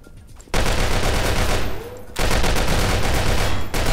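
Rapid bursts of Soviet rifle fire ring out in the video game GoldenEye Source, loud and dense automatic gunfire in two long volleys separated by a brief lull.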